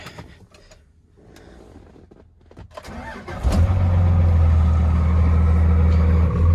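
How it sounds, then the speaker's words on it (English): A Dodge Ram 3500 Cummins diesel cranks and fires, then idles loud and close with a deep steady rumble and a rattling clatter from its South Bend clutch. "That clattering's the South Bend clutch."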